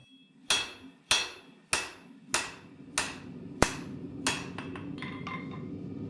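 Hammer forging and bevelling a steel dagger blade on an anvil: seven sharp ringing strikes at a steady, unhurried rhythm, close and loud, followed by a few quicker, lighter taps.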